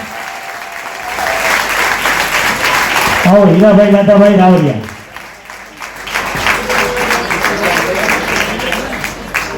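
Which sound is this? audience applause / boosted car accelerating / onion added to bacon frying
audience applause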